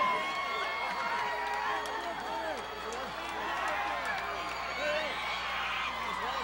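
A capacity wrestling crowd roars and cheers for the champions, a dense, continuous wall of shouting and whooping heard from within the arena, loud and sustained throughout.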